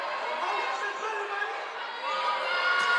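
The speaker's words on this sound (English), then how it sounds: "We have a very good crowd here at the West Quad Gymnasium." A crowd fills a volleyball gymnasium during a women's college quarterfinal match, with a dense, steady roar of chatter and cheering and no single voice standing out.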